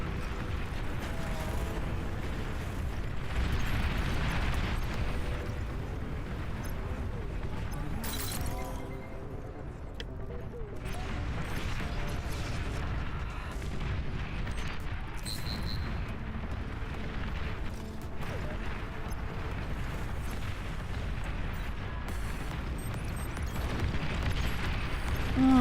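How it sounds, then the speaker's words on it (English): Artillery fire across a battlefield in the real-time strategy game Beyond All Reason, a sustained barrage of booms, crashes and grinding machinery rumbling continuously and loudly throughout, with no clear talking. "Ah, the artillery field of fire."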